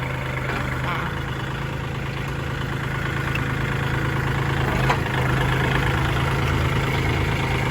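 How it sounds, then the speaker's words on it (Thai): A used Kubota tractor engine runs steadily during a mechanic's test, a continuous low chugging idle that holds even and close with a slight rise near the end, while someone talks over it. "ช่างกำลังลองรถให้ลูกค้านะคะ"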